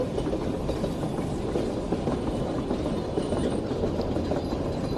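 A metro train runs steadily in a video game, its continuous rumble and rail rattle close and even throughout, with no talk.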